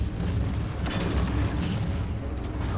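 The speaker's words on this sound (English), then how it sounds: "I'm firing rockets" Rocket launcher fire in Halo 4: a dense, rumbling, booming blast that carries on loudly for a few seconds without a break.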